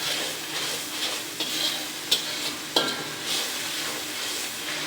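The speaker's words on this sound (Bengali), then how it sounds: "ভালো করে মশলাটা কষিয়ে নিব" Spice paste with coriander powder, salt and chilli powder is stir-fried for a pangas fish head and bottle gourd curry, a steady sizzle with a few sharp spatula knocks on the pan.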